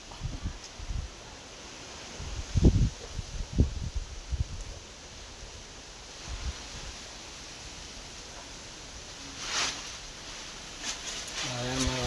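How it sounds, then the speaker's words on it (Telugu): Wind blows in gusts with a broad rushing hiss and rumbling buffets against the microphone, a voice speaking faintly beneath it. "గాలి ఏ విధంగా వేస్తుందో"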